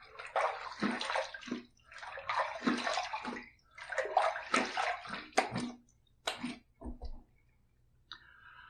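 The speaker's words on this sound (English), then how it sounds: "Let's rinse." A straight razor blade being rinsed under running water after a second shave pass, with bursts of splashing and trickling water in uneven clusters, close and fairly quiet, followed by a few sharp clicks near the end.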